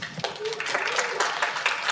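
Convention audience applause at a voice acting panel, a moderate crowd clapping continuously with scattered sharp claps, somewhat distant and fairly quiet, with voices mixed into the noise.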